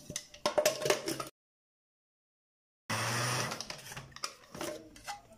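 A food processor grinds apricots into cookie dough in bursts of whirring, rattling motor noise, close by, broken by a stretch of complete silence before the grinding resumes.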